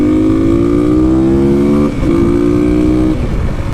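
Dual sport motorcycles, a Kawasaki KLX300, Yamaha WR250R and Suzuki DRZ400, ride on twisty roads, one engine droning steadily and loud with a rising pitch, a brief dip near the middle as the rider shifts, then it pulls on.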